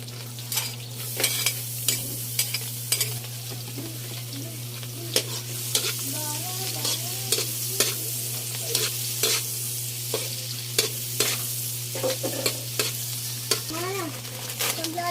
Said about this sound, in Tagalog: At ilalagay natin yung ating sibuyas at bawang.